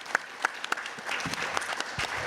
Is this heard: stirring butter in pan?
no